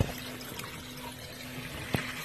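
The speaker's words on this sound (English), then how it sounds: "Notice the water coming in through the basin there." Water trickles into a crawl space sump basin, a soft steady wash of flow with a low hum running underneath and one brief knock near the end.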